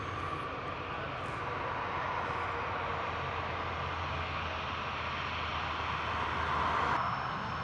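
A TUI airliner near the runway at Newcastle Airport gives a steady, distant engine roar with a broad hiss, holding constant for several seconds without any talk over it.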